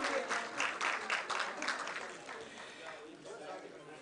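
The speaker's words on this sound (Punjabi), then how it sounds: "ਇੱਕ ਵਾਰੀ ਭਰਪੂਰ ਤਾੜੀਆਂ ਜੀ ਤੁਹਾਡੇ ਸਾਹਿਬ ਦੀਆਂ" Audience at an international Punjabi conference clapping in a sustained, dense burst of applause, with voices mixed in; it stays steady and fairly loud before tapering slightly toward the end.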